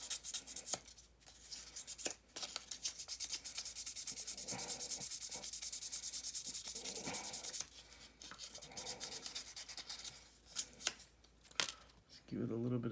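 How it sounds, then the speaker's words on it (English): Brass model chassis being sanded by hand, close, quiet rubbing strokes in irregular bursts, with soft scratchy texture and a brief pause partway through. "I think if I sand a little bit more, I'd probably get a nicer shine."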